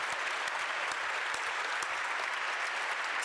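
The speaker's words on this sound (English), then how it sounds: "Let's give these small businesses a round of applause." A formal awards audience at a small business awards event in Washington, DC gives a round of applause, steady dense clapping from a large room that holds at full level throughout.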